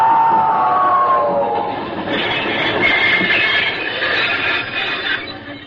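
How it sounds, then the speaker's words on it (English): A steam locomotive train passing in a 1943 radio drama sound effect, a loud rumbling roll with a squealing whistle-like tone early on and rattling wheels that fade slightly at the end. "Would that be a locomotive you're driving?"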